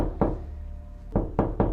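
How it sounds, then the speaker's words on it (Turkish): Someone knocks on a door in the video game Exit 8: four sharp, close raps over a steady low hum, with one knock, a long pause, then three quicker knocks in a row. "Kapıyı biri çalıyor kanka şu anda."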